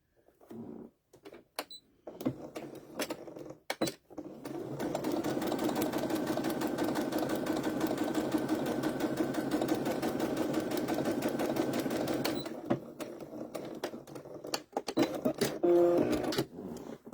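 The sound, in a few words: sewing machine stitching a KitchenAid bowl cover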